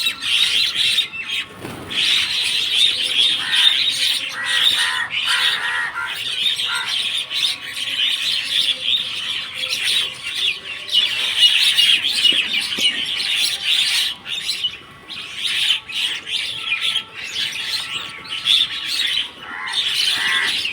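Crows caw almost continuously nearby, harsh calls overlapping with squawks and chirps for the whole stretch, no talking.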